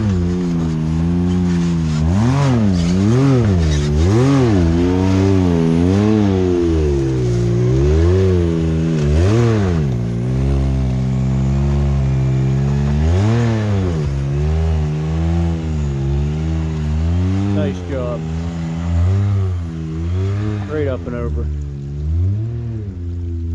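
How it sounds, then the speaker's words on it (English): A side-by-side UTV fitted with a J-Star exhaust revs hard on the Hatfield McCoy Ivy Branch trail, its engine pitch repeatedly swooping up and down in loud, close bursts before easing off and fading near the end. "Got that J-Star exhaust on there"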